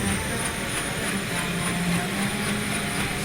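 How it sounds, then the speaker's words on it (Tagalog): A military helicopter roars loud and close during heliborne training for Scout Ranger commandos, its steady rotor thump and engine whine continuous throughout. "Landing into hostile territory, a helicopter is a big target."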